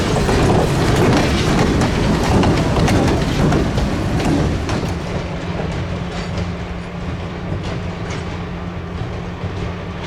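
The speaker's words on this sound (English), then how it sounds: "The train has now left GC&C trackage and is now back onto that of the Western Maryland" A Western Maryland Scenic Railroad train rolls along the track near Cumberland, with loud clickety-clack of wheels over rail joints that eases into a steadier, quieter rumble as it passes.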